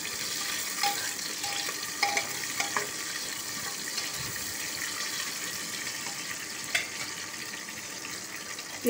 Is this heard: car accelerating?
no